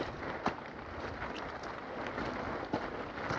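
Soft, faint rain and wind noise wash steadily through a foggy forest during a storm with falling trees, with a couple of brief thuds or knocks standing out.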